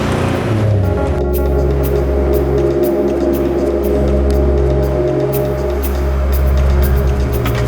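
Car being driven, a steady low engine drone and road rumble filling the interior, loud and continuous throughout with no talk.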